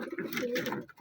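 A Lotan pigeon gives a single soft, low coo lasting about a second, close and clear.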